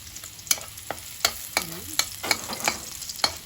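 Garlic fries in hot oil for garlic fried rice, a steady sizzle punctuated by sharp spatula taps and scrapes against the pan every half second or so; no talking.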